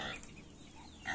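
Farmyard hen clucking in a backyard poultry setting, a few short close clucks running through the clip with a louder burst at the end, no speech over it.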